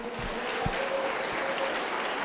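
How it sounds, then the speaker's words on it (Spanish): Congregation applauding at a church service, a moderate, diffuse wash of clapping with a few low thumps and a faint sustained tone beneath, fairly even throughout. "Dele un fuerte aplauso contento a Jesús"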